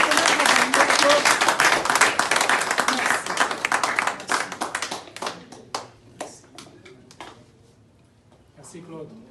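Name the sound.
audience applause for Claude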